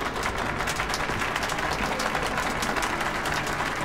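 Applause from a crowd inside the video game Metro: Last Light, an even wash of clapping at moderate volume with no voices over it.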